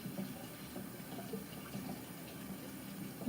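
Water runs from a tap as a faint, steady, even hiss of flowing water that continues unbroken throughout.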